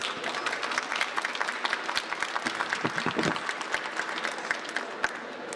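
A hall audience at a book-fair prize ceremony applauds a winner with steady, dense clapping that carries on for several seconds without letting up.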